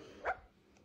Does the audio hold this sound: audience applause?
no